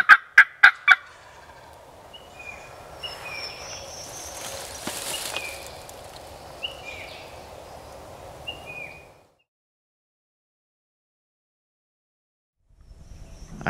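A wild turkey gobbler gobbles several times in answer to a hunter's call, loud and fairly close. Short sharp notes open the clip, then a drawn-out rattling gobble runs for several seconds before fading into silence.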